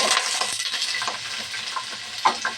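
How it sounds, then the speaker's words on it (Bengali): Dried red chillies frying lightly in mustard oil while beef curry is being cooked, giving a steady close sizzle with scattered clinks and scrapes of stirring. "আর দিয়ে দেব তিনটা শুকনো মরিচ মরিচটা হালকা ভেজে নেব"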